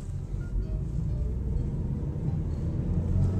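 A manual car accelerates in first gear with a low, steady engine rumble heard from inside the car. The rumble swells gradually and stays continuous throughout.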